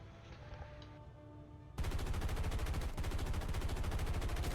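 Rapid machine gun fire from a Spitfire fighter in the War Thunder air combat game, a dense loud burst that cuts in abruptly after quieter engine drone and continues steadily to the end.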